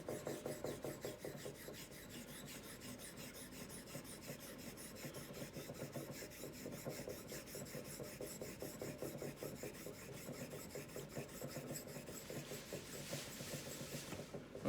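Steady back-and-forth rasping of a Simmons Hardware No. 8 double concave straight razor being honed in half strokes on a stone, a continuous close scraping rhythm with no talk.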